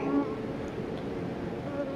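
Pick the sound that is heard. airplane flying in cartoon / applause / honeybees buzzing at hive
honeybees buzzing at hive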